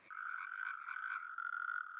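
Frog from The Magic School Bus animal game, a single sustained nasal croak or trill, clear and close, lasting about two seconds against silence.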